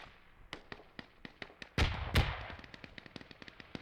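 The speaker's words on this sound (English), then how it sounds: "Hearing lots of explosions here to the south." Explosions in a multiplayer war video game, a rapid scatter of sharp distant cracks and pops with two heavier booming blasts in the middle, fairly faint overall.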